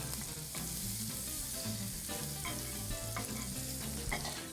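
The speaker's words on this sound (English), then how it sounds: "Gonna add a little bit more oil, and a decent amount of butter." Oil and butter sizzle steadily in a nonstick pan over medium-low heat, a close, continuous frying hiss with faint crackles and no voices.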